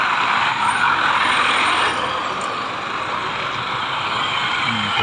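Steady broadband road noise of vehicles rolling past on a road near a Jollibee, continuous and fairly loud with no clear gaps, and no talking.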